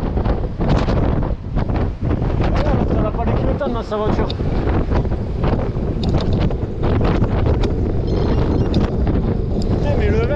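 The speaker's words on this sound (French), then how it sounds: "Là il y a du vent." Strong wind buffets the microphone without letup, a loud roaring rumble that blankets the whole stretch while someone talks over it outdoors near traffic.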